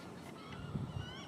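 A flock of geese flying overhead gives a few faint, distant honks in a brief burst, set against soft outdoor background noise.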